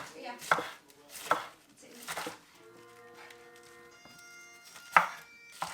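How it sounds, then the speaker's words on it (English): A knife chopping half a head of lettuce into thin shreds on a board, a few sharp separate cuts spaced about a second apart, with some faint tonal kitchen background and soft clatter between strokes. "We just cut it really thin."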